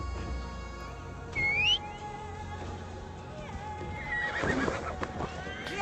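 A horse whinnies sharply in Assassin's Creed Valhalla, followed by a burst of clip-clopping hooves, over steady game background music.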